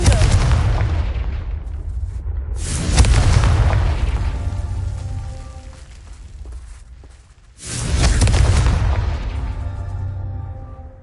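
Two loud booming blasts from the Confringo fire spell in the Hogwarts Legacy video game, each a sudden heavy explosion followed by a long rumbling decay, with a quieter lull between them.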